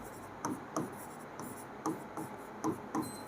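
A pen writes a math problem by hand on paper, faint, close scratchy strokes tapping out in a loose, irregular rhythm against quiet background hiss.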